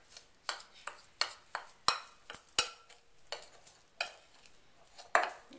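Oreo cookie crumbs being worked together with butter in a bowl, giving a regular series of short scraping strokes and soft clinks of a utensil, close and fairly quiet, with no talking.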